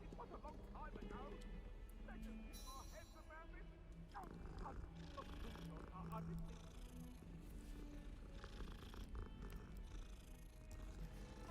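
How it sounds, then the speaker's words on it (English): A cat in the Hogwarts Legacy video game purrs softly under a player's ongoing talk and game background sounds, a low steady rumble. "Oh, it's a cat."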